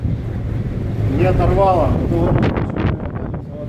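Strong gusting wind buffets a moored, fully loaded ship at the port of Vanna in Norway, a broad rushing roar with clattering under someone speaking Russian.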